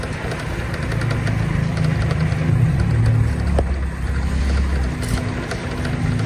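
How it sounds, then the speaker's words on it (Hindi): A motorcycle engine runs steadily with a low, rumbling idle, close and continuous in an outdoor setting on a cold, breezy evening, with no talking over it. "मोटरसाइकिल"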